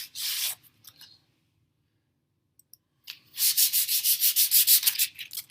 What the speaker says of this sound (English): Make sure that you're sanding the edges to get rid of any bumps that the paint caused.